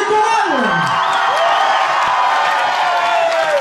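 A festival audience at Le Vieux Canal 2012 cheers and whoops in a dense, continuous roar, with raised individual voices rising above the crowd noise throughout.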